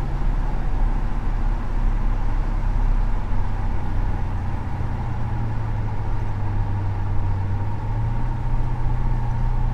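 A 1977 Chevrolet C10 pickup cruises at around 45 to 50 mph, a steady low engine drone and road rumble heard from inside the cab, unchanging throughout.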